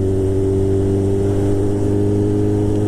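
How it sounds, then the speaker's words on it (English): A Chrysler 300, likely V6-powered, hums steadily at close range with a constant droning engine note and no talk. "Chrysler 300. I bet that's probably not a Hemi. It's probably a V6."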